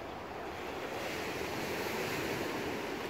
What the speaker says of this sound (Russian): Место впадения Хосты в море.